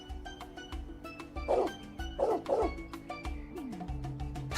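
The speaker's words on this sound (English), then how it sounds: "Oh yeah, she has a dog." Pet dog barking in the game Trails Beyond the Horizon, several short yapping barks in quick bursts over quiet game music, fairly close and moderately loud.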